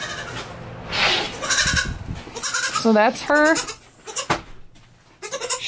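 Young goat kept alone in a barn bleats twice in close, wavering cries as feeding time nears, over steady rustling and handling noise while a person speaks nearby.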